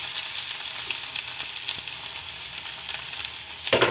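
Chopped onion fries in a pan with a little oil for chowmein, giving a steady, close sizzle with a few stirring scrapes near the end.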